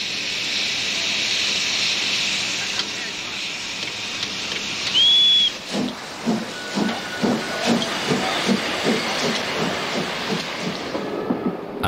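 A steam locomotive runs on a brand-new railway line, a loud hiss of steam followed by a steady rhythmic chuffing, with a brief whistle partway through.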